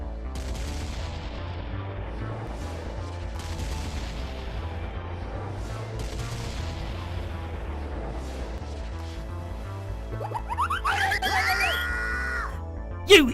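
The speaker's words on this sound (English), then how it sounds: "Everyone ran around the ship, firing," Cartoon pirates fire guns at Peter Pan from a ship: repeated booming shots and rapid popping bursts under music and excited voices, ending with a sharp loud blast.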